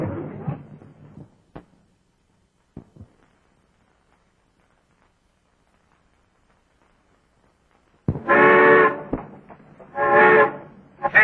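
A train whistle on a locomotive sounds in two long, loud, steady blasts, each lasting about a second, after a brief stretch of talk and near silence.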